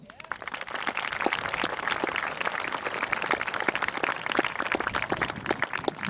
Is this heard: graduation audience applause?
yes